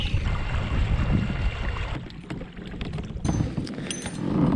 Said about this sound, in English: Another burst of wind.